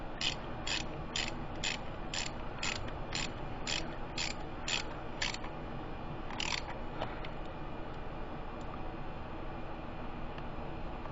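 A ratchet snugs spark plugs on a 2007 Saturn Ion, giving a quick run of about a dozen evenly spaced clicks, then one more brief burst before it stops, close up against a steady background hiss.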